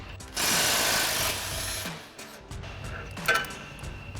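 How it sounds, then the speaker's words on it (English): Impact wrench with a 19 mm socket removing a sway bar end link bolt on a 2024 4WD Toyota Tacoma, one loud close rattling burst of about a second, followed by softer clinks and tool handling. "we'll grab a 19 mil socket on our impact, pop that out real quick"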